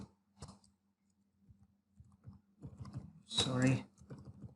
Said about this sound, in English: So I'll type in a script.